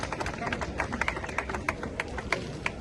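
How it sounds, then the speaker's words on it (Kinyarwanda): A church congregation claps in a steady rhythm during worship, sharp regular claps over voices and singing. "Let's clap for the Lord."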